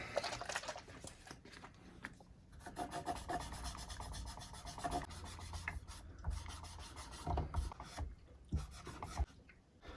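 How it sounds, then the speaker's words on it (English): Dunlop lemon oil rubbed by hand onto the wooden fretboard of a Dimebag Darrell replica guitar, a steady close rasping friction with short pauses and no talking. "I'll put some of our Dunlop lemon oil on"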